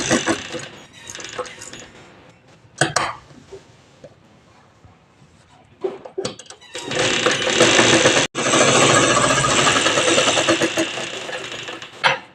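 A sewing machine stitches a kurti neckline in short bursts, then runs in a longer loud stretch near the end, with brief pauses and handling between runs.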